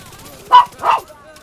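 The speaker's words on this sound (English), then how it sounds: "I'm so sorry about the dog." A dog barks twice in quick succession, close and sharp, over quiet background sound.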